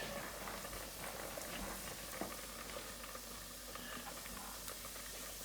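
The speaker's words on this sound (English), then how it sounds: "You hear it sizzling already." Oil sizzling steadily in a pan while sautéing, a continuous close crackling hiss with faint scattered pops throughout, no voices.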